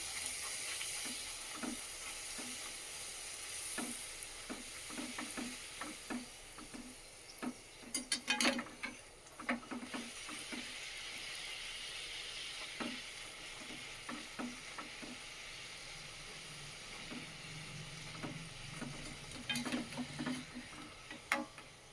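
Puris deep-fry in oil, a soft continuous sizzle with scattered ticking pops and occasional louder bursts of crackle, heard fairly quietly and with no voices over it.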